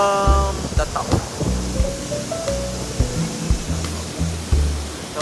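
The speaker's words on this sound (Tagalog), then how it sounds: "Medyo malakas po yung baba ng tubig dito sa falls natin." Rushing water of Maranum Falls in Natividad, Pangasinan, heard from the top of the falls as a steady, full roar, with some tonal, voice-like sounds layered over it.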